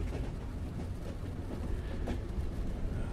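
Inside a moving train carriage, a steady low rumble of wheels and wagon noise fills the space, with faint rattles and no voices.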